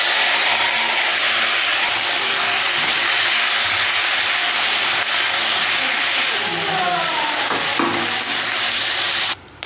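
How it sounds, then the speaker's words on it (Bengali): Small fish rubbed with salt and turmeric frying in hot oil in a wok, giving a steady, close, continuous sizzling hiss that runs almost unbroken to the end. "এবার মাছ ভেজে নেব।"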